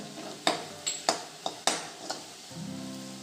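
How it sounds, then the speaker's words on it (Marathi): Onion browned in oil sizzles in a pan while a spoon stirs and knocks against the metal a few times. Five or six sharp clinks come over a soft hiss, then a faint tonal hum takes over near the end. "कांदा तेलात छान परतून झाला आहे लालसर झाला आहे"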